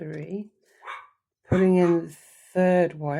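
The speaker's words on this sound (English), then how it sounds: "Excuse my dog, she's been very naughty tonight" A pet dog barks twice indoors, loud sharp barks close by, interrupting a person who talks quietly before and between them.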